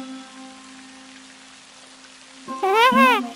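Rain falls in a cartoon as a soft, steady patter under a low hum, and a voice rises briefly near the end.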